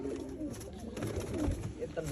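Soft, low pigeon cooing rumbles close by for a couple of seconds, with a faint voice in the background.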